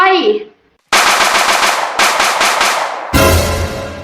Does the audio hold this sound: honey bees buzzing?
no